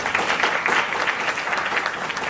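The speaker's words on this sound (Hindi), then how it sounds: "इनके लिए जोरदार तालियां बजाएं" Enthusiastic applause from the audience at a live model-hunt fashion show in 2023 forms a dense, even wash of clapping that stays close and strong throughout.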